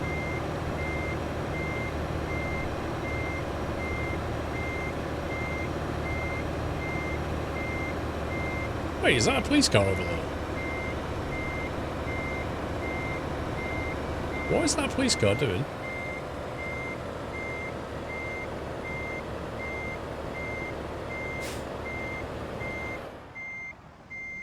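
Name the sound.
truck reversing beeps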